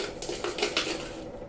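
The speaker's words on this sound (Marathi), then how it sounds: "कच्चा लसूण असा वाटीने ठेचून घ्यायचा" Raw garlic is crushed with a small bowl in a home kitchen, giving a few quick clinking knocks of metal and crockery, close and fairly quiet, with no voices.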